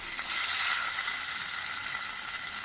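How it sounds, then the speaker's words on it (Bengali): Broken rice tipped into a pan of browned fried onions sets off a soft, steady sizzle and hiss that carries on evenly throughout at moderate loudness. "পেঁয়াজটা লাল লাল করে ভাজা হয়েছে, এখন আমি দিয়ে দিব চালের খুদটা।"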